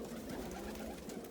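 A steady bed of soft cooing from fancy pigeons, opals and Indian fantails, in a loft, continues without pause at close to moderate distance, many calls blending into one murmur with no speech.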